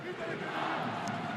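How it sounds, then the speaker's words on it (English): A rugby stadium crowd roars behind their team at a Top 14 match between Perpignan and Clermont, a dense, sustained wash of cheering with a commentator talking over it. "The crowd get up again"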